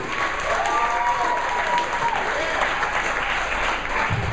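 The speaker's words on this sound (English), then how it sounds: "Clap those hands for Amy Ruud." A comedy-show audience applauds comedian Amy Ruud: steady, dense clapping that holds at full strength for the whole stretch.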